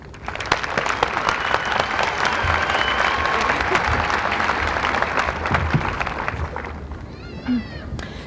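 Loud, sustained applause from a commencement audience greeting a graduate being welcomed at a 1995 high school graduation ceremony, steady clapping throughout before fading near the end.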